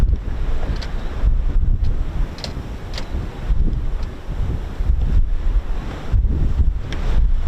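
A strong easterly wind of about 28 mph blows hard across the microphone, making loud rumbling buffets that surge and ease in gusts throughout.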